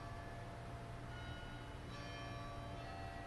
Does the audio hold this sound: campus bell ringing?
yes